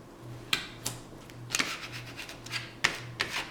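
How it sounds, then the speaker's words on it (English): Tape being burnished down onto folded card with a tool beside a score line: a few sharp rubbing strokes and scrapes, close and fairly loud, over a faint steady hum. "Burnish it down."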